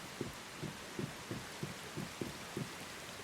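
Steady rain in the video game Once Human, a dense hiss of falling drops with a faint low thump repeating roughly twice a second underneath, constant and moderately loud.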